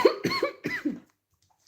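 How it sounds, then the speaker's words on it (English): A person gives a quick run of close, harsh coughs, three or four bursts in about a second, then falls quiet. "Why I start to cough suddenly with this Mary Magdalene?"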